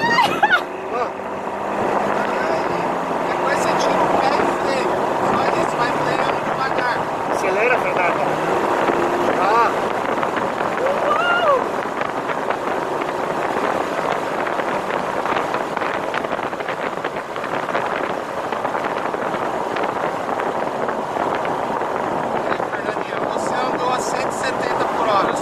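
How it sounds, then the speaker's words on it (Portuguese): Strong wind buffets an open microphone for the whole stretch, a steady loud roar from a moving Ferrari California T 560 cv, with voices talking over it. "Cara, que vento animal que vem aqui."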